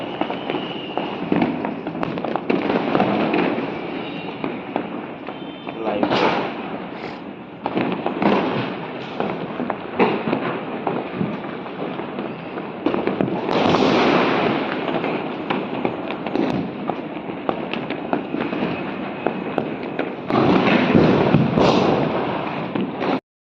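Diwali firecrackers and fireworks burst over Ahmedabad toward Naroda, with a steady barrage of crackling pops and louder bangs rolling on for over twenty seconds, some near and sharp, others distant.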